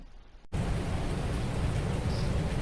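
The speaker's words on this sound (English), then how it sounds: "it's still raining" Steady rain in the Farming Simulator 19 video game, a dense continuous hiss that starts abruptly and holds at an even level, with no talk.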